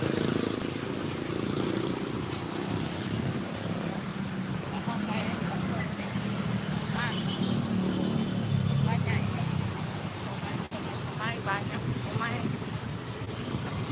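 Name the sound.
motorcycle riding slowly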